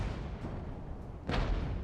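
Artillery fires in the Regiments strategy game during a defensive action against East German waves. A distant rumble leads into one sharper, louder blast near the end, all at a low overall level.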